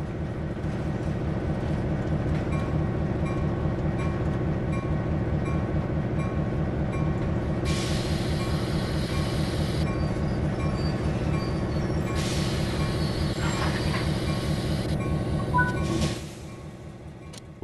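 Caltrain MP15DC diesel locomotive running in Train Sim World 3, a steady low engine rumble with droning harmonics throughout, overlaid by intermittent hissing air bursts before the engine note drops near the end.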